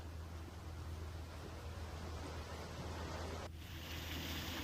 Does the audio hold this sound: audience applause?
no